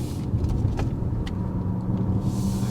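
A 2026 Lexus RZ450e electric SUV taking a corner, heard from the cabin: a steady low road and motor hum with faint brief whirs and clicks, no talk.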